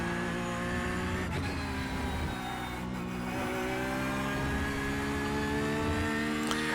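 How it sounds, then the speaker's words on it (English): Porsche GT3 R racing car with a 4-liter flat-six engine in the iRacing simulator, a continuous loud engine drone holding steady revs throughout with no talk. "just love the sound of that flat 6 engine, the 4-liter Porsche"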